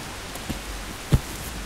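Steady rain falling outdoors as a continuous soft hiss, with a couple of brief louder drops or taps standing out.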